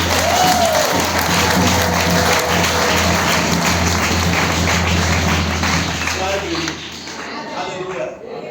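A church congregation applauding and acclaiming Jesus during a worship service, sustained loud clapping and cheering from a large crowd that tapers slightly toward the end, with voices mixed in.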